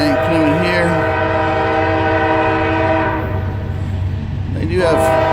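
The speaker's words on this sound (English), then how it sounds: "Train coming here." A CSX freight train led by two locomotives sounds a long, loud horn with sustained harmonic blasts, close by, over a steady rumble of rolling wheels and engines.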